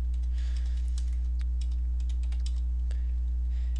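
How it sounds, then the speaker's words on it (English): Digits typed on a computer keyboard in a steady, irregular run of close, crisp key clicks over a constant low electrical hum, with no one talking. "I'm just going to type them in."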